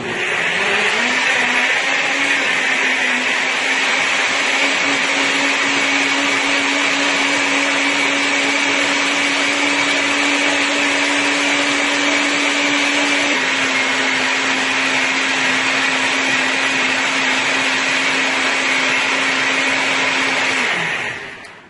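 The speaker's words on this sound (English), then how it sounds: "And let's give this a nice blend here." Kitchen blender runs for about twenty seconds, blending mango and mustard pepper sauce with vinegar in a loud, steady motor whine that slightly shifts pitch midway before cutting off.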